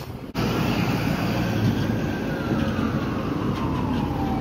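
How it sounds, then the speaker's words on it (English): An emergency siren wails steadily at a street intersection beside a train station. It is moderately loud over continuous traffic rumble, with a long sliding tone running throughout. "we got a siren here, just as I'm about to cross to the train station"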